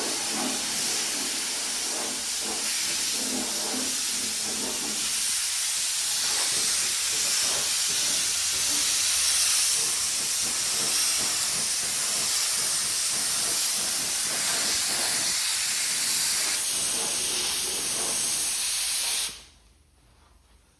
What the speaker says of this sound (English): The first coat, you just want to spray the areas where you did the body work.